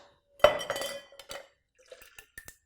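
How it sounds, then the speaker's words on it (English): Ice cubes dropped into a metal cocktail shaker tin for a gin cocktail: a sharp clattering burst of clinks, followed by a few scattered lighter ticks and rattles as the cubes settle. "then we're just gonna add our ice"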